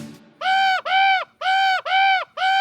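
A crow caws five times in quick succession, loud and close, each call harsh and drawn out, with no talking.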